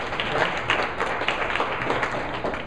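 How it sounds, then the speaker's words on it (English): An audience at a high school FBLA commencement ceremony applauds steadily, a dense wash of many hands clapping close and fairly loud throughout, with no voices over it. "Give her a round of applause again."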